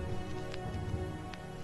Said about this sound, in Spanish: Se había levantado viento, arrastrando tras de sí fuertes ráfagas de lluvia